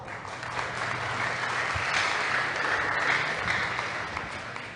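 An audience at an English school debate gives a steady round of applause, a continuous moderate wash of clapping that holds evenly from start to finish.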